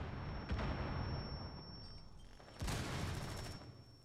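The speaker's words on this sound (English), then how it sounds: "Nades coming through." Grenade explosions in a video game: two muffled booms about two seconds apart, each with a rumbling tail, fairly faint and heard without talking.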